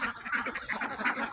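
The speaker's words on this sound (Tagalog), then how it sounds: "May mga pato pa rin ako doon na naglilimlim sa kabila." Ducks nesting nearby give a quick run of soft, repeated quacks, faint and close together over a brief moment.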